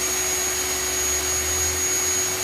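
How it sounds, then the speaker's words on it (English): A power drill at full speed spins a 1984 Nissan 300ZX speedometer cable, making a steady, loud, high-pitched motor whine and whir without a break. "That's full speed on the drill."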